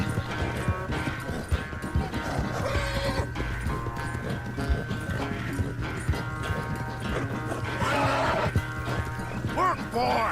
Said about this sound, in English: o cavalo do Dutch não cansa não